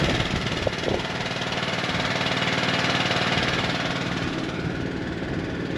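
A gasoline engine-driven pump runs steadily at idle with an even, knocking mid-range drone that continues unbroken and fairly loud throughout.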